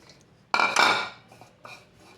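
Paratha dough being mixed in a metal bowl with fenugreek leaves and coriander, a sharp clatter of utensil against the vessel followed by softer scraping knocks.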